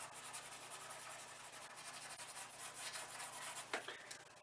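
Paintbrush scrubbing Payne's grey acrylic paint onto a surface, a faint, steady dry rubbing with rapid back-and-forth strokes, close and quiet, ending in a few sharper scuffs.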